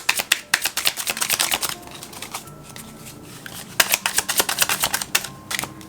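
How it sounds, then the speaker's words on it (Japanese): A deck of tarot cards being cut and shuffled, with two bursts of rapid, crisp riffling flutter separated by a quieter pause, close and alone. "カードをねカットしていきたいと思います"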